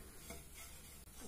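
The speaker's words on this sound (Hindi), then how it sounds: "इसको मैं जस्ट 2 मिनट के लिए फुल फ्लेम पे बस 2 मिनट के लिए इसको फ्राई करने वाली हूँ" Desiccated coconut dry-roasting in a pan over a full flame for modak, a steady dry hiss with light scraping from stirring running close and continuous throughout.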